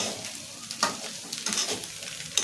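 Fried rice stirred and frying in a pan, a continuous sizzle punctuated by sharp scraping strokes of the spatula at irregular intervals, close and fairly loud.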